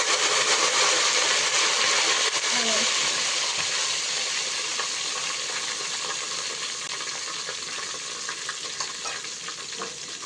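Garlic and cumin seeds sizzle steadily in hot oil in a pan, a dense, continuous frying hiss with faint stirring scrapes, close and alone.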